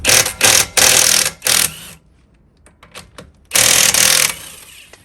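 Cordless 0OB impact driver hammering on alternator bolts with a 19 mm impact socket, several loud rattling bursts in quick succession, a short pause with faint clicks, then another long burst.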